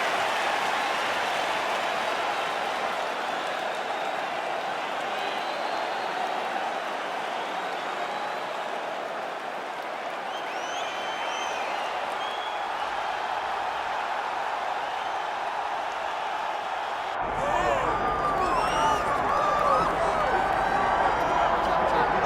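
Arena crowd in EA Sports UFC 5 roaring at a capacity fight night, a steady broad wash of cheering and applause that swells louder toward the end, with a commentator talking over it.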